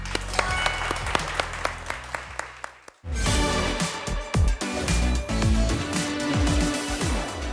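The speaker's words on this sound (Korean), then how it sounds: "박사님께 박수 한번 부탁드리겠습니다" Audience applauds a brain scientist after a lecture: music with a steady beat fades out, then a full hall of clapping bursts in loudly and continues densely to the end.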